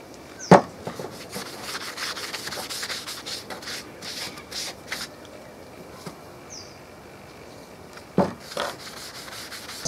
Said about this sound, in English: we're just going to apply a nice light brown dye to this.